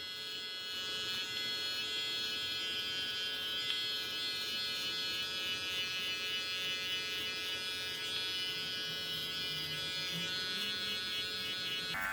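A Silvercrest SHBS 700 A1 hair and beard trimmer runs steadily on turbo while cutting hair, giving a close, continuous electric buzz with a bright whine that holds level throughout with no talking.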